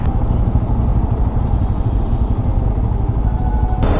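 Four motorcycles ride together to a beach near Kolkata in the morning. Close and loud, the engines give a continuous rumbling drone from start to finish.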